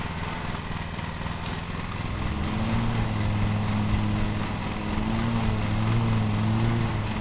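A lawn mower in the video game Lawn Mowing Simulator drones steadily and continuously, its engine tone rising slightly partway through, with no talking.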